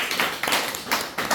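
A small audience at a Confucian Analects lecture claps briefly for a returning attendee, a short burst of fairly close, uneven hand claps.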